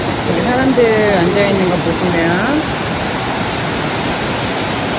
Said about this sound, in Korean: 높은 파도는, 아, 높은 폭포는 아니고 되게 넓은 폭포예요.